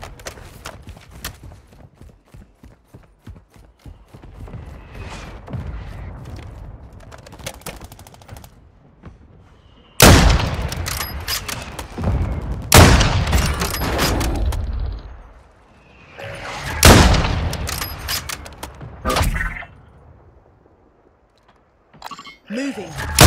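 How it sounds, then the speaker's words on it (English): Hostile mortar strike explosions in a military video game land as several heavy booming blasts in clusters, loud and close amid scattered rapid gunfire, with voices speaking at times. "Hostile mortar strike incoming."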